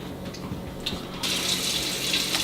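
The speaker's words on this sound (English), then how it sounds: "So I'm dumping my water in." Water is poured into a kombucha batch already holding sugar, a soft splashing at first that turns into a louder, steady gushing stream about halfway through, close by and with no talk.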